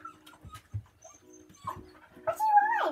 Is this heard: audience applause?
no